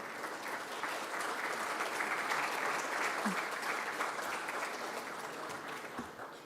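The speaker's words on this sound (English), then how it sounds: "Please, a round of applause." A large audience at a global nursing awards ceremony applauds in a dense, steady wash of clapping that holds at even loudness throughout with no talk over it.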